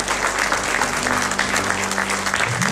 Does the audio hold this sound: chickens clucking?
no